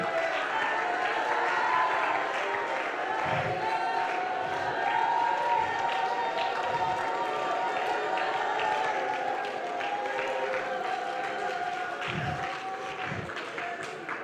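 A church congregation clapping and shouting together in a steady, sustained roar of applause and cheering, with a few low thumps scattered through it, filling a large room at moderate loudness.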